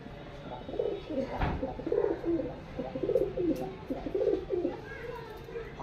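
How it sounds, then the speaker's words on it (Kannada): Pigeons kept in a home loft coo in soft, repeated rolling phrases close by, several calls overlapping in a low, steady rhythm. "ನೋಡಿ ಇವಾಗ ಇಷ್ಟು ಅದಾವೆ ಪಾರಿವಾಳ"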